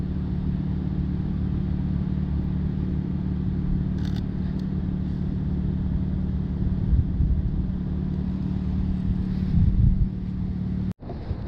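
A BMW G80 M3 rumbles at low idle, close and steady under some wind noise, before a sharp click near the end.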